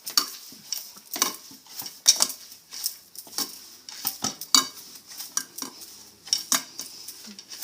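Corn flour dough, with some maida added to help it bind, is kneaded and pressed in a metal pot, giving irregular clinks, scrapes and soft thuds at close range.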